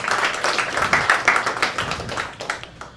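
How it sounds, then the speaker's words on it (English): An audience at a live Rubik's Cube show applauds for a volunteer called up on stage, a dense, fairly close burst of clapping that thins and fades over a few seconds. "Give Sparsh a round of applause."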